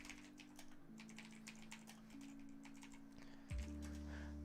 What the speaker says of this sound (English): good typing there